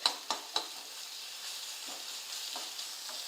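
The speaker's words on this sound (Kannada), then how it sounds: "ಅದನ್ನೂ ಸ್ವಲ್ಪ ಹಸಿ ವಾಸನೆ ಹೋಗೋರಿಗೆ ಫ್ರೈ ಮಾಡ್ಕೋಬೇಕಾಗ್ತದೆ" Ginger garlic paste frying with onions in a pan for a besan curry, a few sharp spoon taps at the start followed by a soft, steady sizzle with light stirring.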